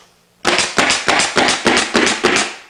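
Staple gun fastening the seams of underlayment for vinyl flooring fires six sharp, loud snapping shots in a quick even rhythm, close up with nothing else audible.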